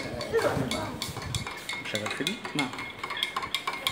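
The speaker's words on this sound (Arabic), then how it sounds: "حرك لي هذا وهذا، حرك جيدا" A pen stirring liquid in a glass, giving light clinking and scraping taps against the glass in an irregular rhythm, close and fairly faint, with voices talking quietly in a classroom.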